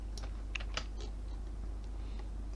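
Typing on a computer keyboard while writing STM32F1 microcontroller UART code, a quick run of close, crisp key taps over a steady low hum, with no voices.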